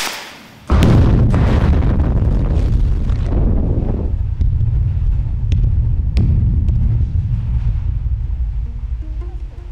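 A blast goes off at a Cornish tin mine: a sudden loud boom bursts in, then a long rumbling, roaring blast of debris and wind noise that slowly fades.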